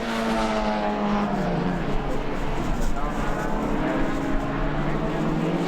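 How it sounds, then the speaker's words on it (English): A race car engine roars loudly and steadily, its pitch sliding down as it passes close by, with crowd or commentary noise beneath. "The roar of that car when he goes by."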